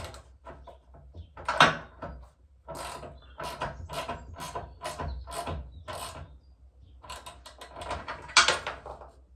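A 12 mm plumbing compression joint fitting is tightened by hand with a spanner, giving a close series of irregular metallic clicks, creaks and ratchet-like scrapes, with a couple of louder turns, and no talking.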